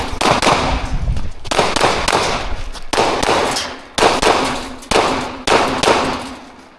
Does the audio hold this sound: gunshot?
yes